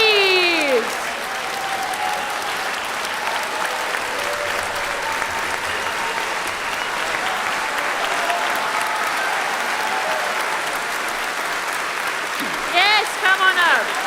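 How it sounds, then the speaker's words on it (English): An audience in the main hall of a GalaCon convention applauds, a dense sustained clapping that fills the whole stretch, with a few cheers and shouts near the start and end. "A big applause for the GalaCon staff, please!"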